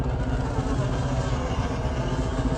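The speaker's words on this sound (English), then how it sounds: "I have my fighter flying around somewhere." A fighter ship's engine from the space game Elite Dangerous drones continuously at moderate loudness, a dense steady rumbling hum with no breaks, flying somewhere nearby.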